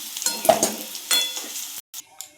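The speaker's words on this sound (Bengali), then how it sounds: "আমাদের আলুগুলো লাল লাল করে ভাজা হয়ে গিয়েছে" Potatoes frying in hot oil, a crackling sizzle with stirring scrapes that come in bursts, then a brief drop to silence before the frying resumes.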